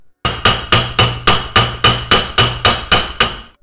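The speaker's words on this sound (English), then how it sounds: "Now with the help of a hammer, we will press the bolt." A hammer drives a bolt into a hole drilled in a DIY tool for a washing machine motor, landing eleven sharp, evenly spaced metallic blows, loud and close with no talk.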